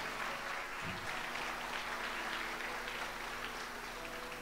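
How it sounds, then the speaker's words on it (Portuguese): A church congregation claps steadily in a moderately faint, even wash of applause over a low hum, with no clear talk. "Aplauda o Senhor Jesus aí bem forte"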